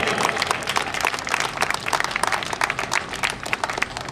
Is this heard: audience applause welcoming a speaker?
yes